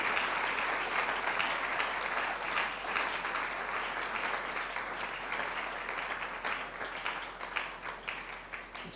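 A church congregation breaks into sustained applause and acclaim, a dense wash of many hands clapping loudly and steadily for several seconds in a reverberant hall, with faint crowd voices mixed in.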